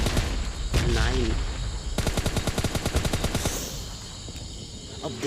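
AWM sniper rifle gunfire in the mobile battle-royale game PUBG Mobile Lite, a burst of rapid repeated shots amid game ambience, with a voice talking over the start.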